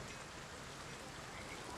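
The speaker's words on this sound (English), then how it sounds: "I love the way this map looks in the rain." Steady rain hisses evenly throughout the Foundation video game's pinewood map in a dense, continuous wash with no breaks or talking.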